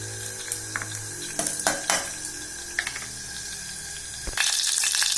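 Mustard seeds and urad dal fry in oil inside a pressure cooker for a nookal rice dish, with scattered clinks and scrapes of a spoon against metal, then a louder hissing sizzle near the end.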